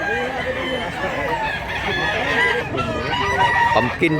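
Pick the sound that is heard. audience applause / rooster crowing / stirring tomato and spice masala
rooster crowing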